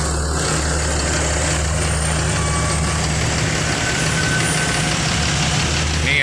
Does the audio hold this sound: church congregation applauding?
no